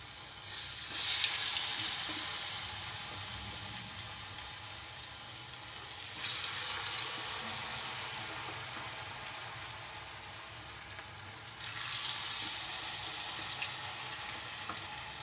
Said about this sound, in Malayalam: ഇനി നമുക്ക് ഇതിൽ ഓരോന്നും എടുത്ത് നമ്മൾ കലക്കി വെച്ചിരുന്ന ബാറ്ററിലിട്ട് മുക്കി നമുക്ക് എണ്ണയിലേക്കിടാം